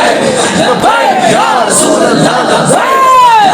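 A dense crowd at a Tehreek-e-Labbaik rally in Sialkot chants slogans loudly and continuously, massed voices rising and falling in waves with shouted calls riding above the din.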